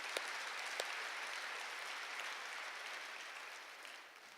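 Church congregation applauding during a Korean sermon, a steady wash of clapping held at an even level for several seconds with a couple of sharper claps near the start, fairly distant and soft.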